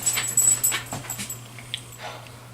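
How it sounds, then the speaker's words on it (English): A dog whimpers and yips for food in a kitchen while Welsh rarebit and stuffed mushrooms are being made, with a series of short, thin whines close by over a low steady hum. "my dog Sarge already coming over wanting to eat"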